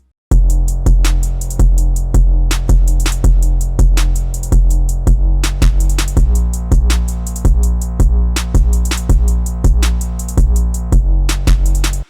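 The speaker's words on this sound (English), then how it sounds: "After that I added the snare." A beat made in FL Studio with snare hits landing on a steady backbeat, alongside fast hi-hats and booming low bass, with no voices.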